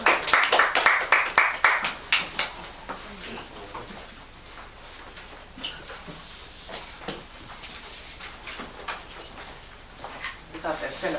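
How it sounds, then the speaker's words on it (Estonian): Audience at a celebration bursts into brief rhythmic clapping that fades after a couple of seconds, followed by scattered claps and quiet room noise under a low voice. "Sume ta sisse aplausiga"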